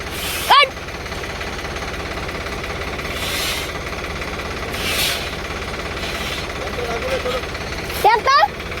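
A stuck tractor's engine drones steadily at low pitch, knocking in an even rhythm, while brief voices shout near the start and again near the end.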